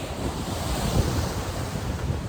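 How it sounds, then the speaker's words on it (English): High ocean waves break and roll onto Patara beach in Turkey, a loud continuous surf wash mixed with wind buffeting the microphone and no voices. "I guess when the waves are a lot higher, but they're quite high right now."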